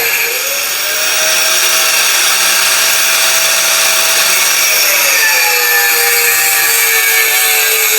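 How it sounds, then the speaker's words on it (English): An angle grinder cuts through rubber during fabrication of a transmission mount for a flathead engine, a loud, steady high-pitched whine that holds for the whole stretch, its pitch dipping slightly partway through as the disc bites. "use a grinder to cut rubber"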